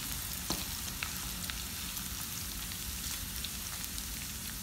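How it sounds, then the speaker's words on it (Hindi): Julienned ginger fries in a pan with a steady, dense sizzle and faint crackles and pops, a quiet, continuous hiss close by. "मैं इसको 1 मिनट के लिए थोड़ा सा फ्राई करूँगी"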